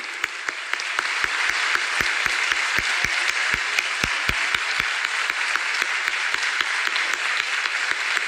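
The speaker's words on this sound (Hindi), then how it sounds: "जोरदार तालियां।" Loud, sustained applause from a large audience at a spiritual gathering honouring a revered guru, dense clapping filling the hall steadily throughout.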